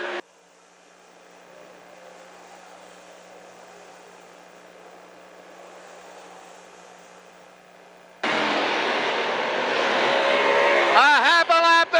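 Race cars roar around the track on the final laps of a Keystone Cup event, a steady engine drone that swells sharply louder near the end as cars pass close.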